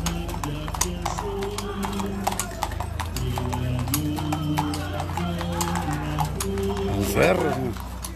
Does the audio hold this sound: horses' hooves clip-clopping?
yes